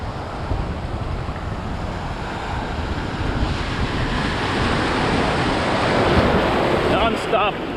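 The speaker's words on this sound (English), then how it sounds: "Non-stop waves coming in shore." Atlantic Ocean surf rolls steadily onto Daytona Beach, Florida near the pier, a continuous broadband wash of breaking waves with wind buffeting the microphone, swelling slightly louder toward the end.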